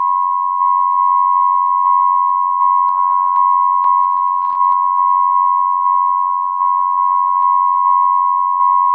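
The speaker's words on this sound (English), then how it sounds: "now we'll start FMing it. I'm gonna use a sine wave from a DPO." Sine wave from a Xaoc Koszalin frequency modulated by a sine from a DPO oscillator, a steady pure tone with bursts of buzzy harmonic sidebands rising and falling as the modulation depth changes, alone and loud.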